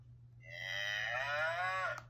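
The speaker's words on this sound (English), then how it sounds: "And what does cow say? Moo." A single cow moos once, a long, clear, drawn-out low call rising and then falling away, heard alone over a faint steady hum.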